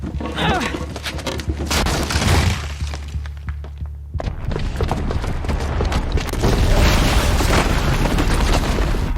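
Booby-trapped bomb detonating in Horizon Zero Dawn, a loud deep boom followed by rumbling debris and crashing, with a brief lull then renewed heavy rumbling and clatter.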